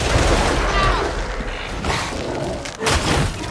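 Full-auto recon lasgun fire in the Warhammer Darktide video game, a dense continuous fusillade of rapid shots with booming thuds throughout, loud and busy in the game mix.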